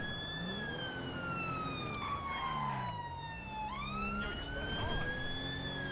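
An emergency vehicle siren on a blue light run wails up and down and switches tones partway through, loud and close, over steady road noise from the moving vehicle.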